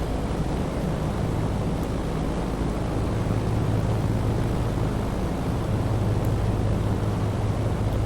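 Junkers Ju-52 radial engines in Microsoft Flight Simulator 2020, a steady droning roar with low, even hum holding at constant loudness throughout, power eased back slightly in flight with flaps down.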